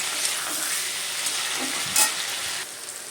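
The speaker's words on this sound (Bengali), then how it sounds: "মিচুটি দিয়ে আলু দিয়ে ভাজা" Michuti (hyacinth bean seeds) and potatoes frying in a pan give a steady close sizzle with a brief louder burst of spatter near the end, then a slightly quieter hiss.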